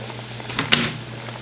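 Trimmed yellow bass fillets frying in a pan give a steady soft sizzle with a brief louder crackle near the middle.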